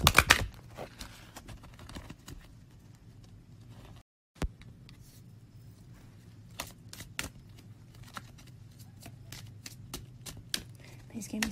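Tarot cards shuffled and pulled from a deck during a reading, a brisk riffle at the start, then soft scattered taps and slides of cards, close and fairly quiet, with a voice speaking at times.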